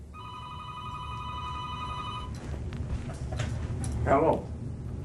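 An old landline telephone bell rings steadily for about two seconds indoors, then stops and gives way to room noise, rustling and a brief voice.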